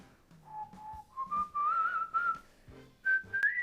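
A person whistles a tune from Chaves, a clear, close melody in a few phrases rising in pitch, with short pauses and faint background noise between notes.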